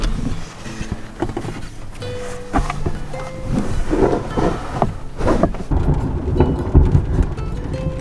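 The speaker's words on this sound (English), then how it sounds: "This is like lightning bolt thunderclap, like immediately after, so it is super close" Thunder from a very close lightning storm, a rumbling crash that builds and rolls over several seconds, heard from inside a parked van amid steady background noise, loud and near.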